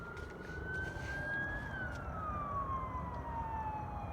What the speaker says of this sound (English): sirens heading towards the gunshots.